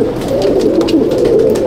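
A Chennai/Andhra Madrasi pigeon in a Howrah loft coos loudly and close, a short, continuous throaty rumble with no talk.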